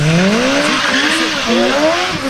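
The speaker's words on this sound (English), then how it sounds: "Putting on a right now on how to do burnouts." A BMW motorcycle doing a burnout at a Cleveland stunt show, its engine revving hard with loud, continuous tire squeal and skidding rising and falling in pitch throughout.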